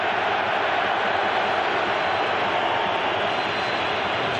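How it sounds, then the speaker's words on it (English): A football stadium crowd at Australia vs Uruguay roars steadily, a dense, even wall of cheering and noise with no breaks, heard from a distance. "The crowd on the far side are giving it some as well."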